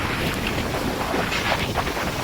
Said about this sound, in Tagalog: Oh, lakas ng hangin guys.